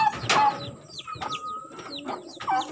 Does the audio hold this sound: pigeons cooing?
yes